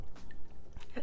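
Firm, chewy homemade boba tapioca balls, slightly undercooked, being chewed and bitten up close in a brief run of soft crunchy mastication sounds.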